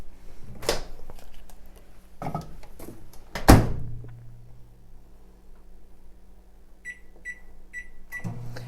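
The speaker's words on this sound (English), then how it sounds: "I'm going to go ahead and put these in the microwave for 30 seconds to start out with" Microwave oven being loaded with chocolate for dipping strawberries: door thunks shut, a low hum starts, a short series of beeps follows, then the steady drone continues.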